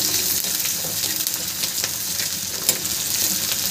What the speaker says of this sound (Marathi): आता कांदा छान परतून घ्यायचा आपल्याला